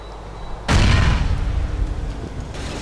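A sudden loud blast erupts in Grand Theft Auto IV, followed by a long rumbling roar that slowly fades.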